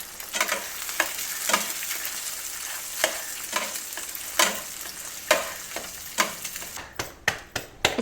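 Eggs frying in a pan during a home breakfast, some cooked half-fried, with a steady close sizzle punctuated by repeated sharp scraping and stirring clicks of a utensil against the pan.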